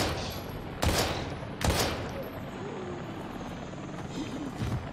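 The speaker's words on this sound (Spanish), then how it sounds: "Helicóptero al rescate." Rescue helicopter in the video game Daymare 1998, its rotor drone running steadily through the scene while two sharp gunshot-like bursts punch in near the start and a fainter one near the end, with no talk.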